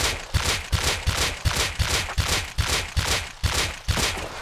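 Rapid, evenly spaced gunshots from a semi-automatic rifle in the Rust game, about ten sharp cracks at a steady rhythm, loud and close with no talking.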